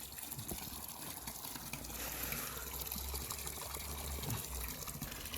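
Water from a gravel biological filter runs back into a garden pond, a soft, continuous trickle and gurgle heard quietly and close, steady throughout with faint outdoor background.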